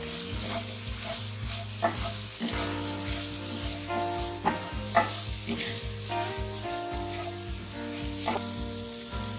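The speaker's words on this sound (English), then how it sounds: "stir it well" Spices stirred into ivy gourd (tindora) and potato curry frying in a pan, with a steady sizzle and scraping spoon strokes recurring throughout, close and moderately loud.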